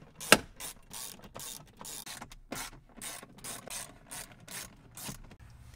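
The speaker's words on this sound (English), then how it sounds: "It just takes four 10 millimeter screws, and then it just kind of pops right off." A ratchet backs out 10 millimeter screws from a lower interior panel of a Toyota Tundra, producing close, crisp bursts of clicking in short, regular strokes with brief pauses between them.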